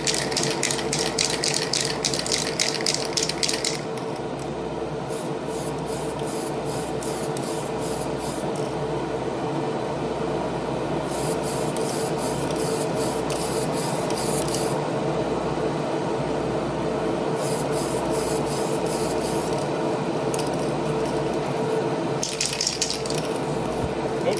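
Spray can applying a second coat of paint, several hissing bursts of spray of varying length separated by pauses, close and fairly loud over a steady background hum, no talking.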